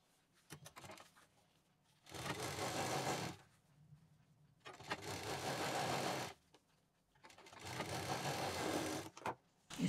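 A sewing machine stitches the lining and zip of a velvet bag in three long, steady whirring bursts, separated by short pauses filled with quiet fabric handling.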